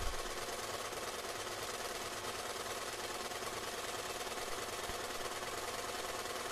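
A sturdy all-metal domestic sewing machine stitches through layers of canvas and fleece, giving a faint, continuous, rapid mechanical chatter at an even pace throughout.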